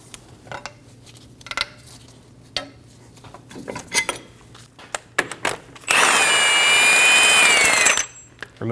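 A socket breaks loose the front axle bolt on a 2012-2022 Volkswagen Passat during steering knuckle work: scattered metallic clicks and clanks, then a loud, steady two-second mechanical whir close up, ending abruptly.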